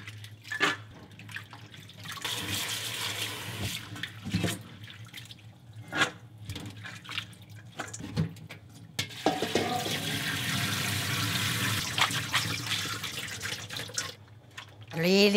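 Soybean sprouts are washed under a running tap, with splashing water, rustling and handling in a sink. The sound rises and falls over a faint steady hum and grows into a fuller stream of water toward the end.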